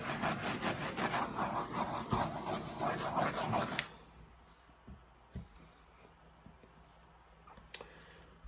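A loud, steady gas torch flame hisses and roars for about four seconds over a fluid acrylic pour painting, then cuts off abruptly, leaving a quiet room with a few small clicks.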